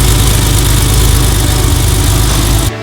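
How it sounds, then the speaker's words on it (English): A Porsche 993 Carrera 4S engine idling steadily after starting, with a deep, even rumble that cuts off abruptly at the end. "start the car. Let it warm up for a minute while the emissions air pump kicks in"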